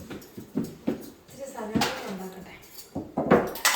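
Pots and dishes clatter and clink in irregular bursts while being washed at a home kitchen sink, with a voice talking over the clatter.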